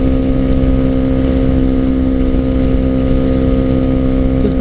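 KTM Duke 390 motorcycle with an aftermarket Akrapovic slip-on exhaust cruising on a freeway in high gear, a steady loud throaty engine drone mixed with wind rush, no talking.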